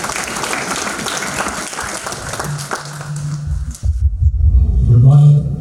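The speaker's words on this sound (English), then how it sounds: "Please welcome him with a big round of applause." Audience applause welcoming a technology-sector leader onto the stage at a business conference, dense clapping filling the hall and building louder toward the end.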